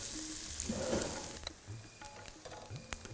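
Onions frying with cumin seeds and green chillies for lauki kofta sizzle softly, with a brief louder crackle early on and scattered stirring clicks and taps afterward.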